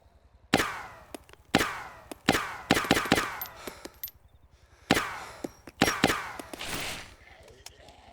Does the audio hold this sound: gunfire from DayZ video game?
yes